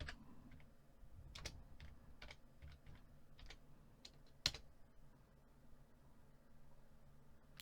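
Quiet, close tapping on a computer keyboard while entering an accounting code, with irregular keystrokes, short bursts and one sharper key hit, and no speech over it.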